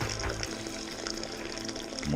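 Water running steadily into a homebrew mash vessel for an imperial raspberry chocolate oat stout, a continuous close splashing and pouring noise that holds through the whole stretch, with faint voices and clatter beneath it.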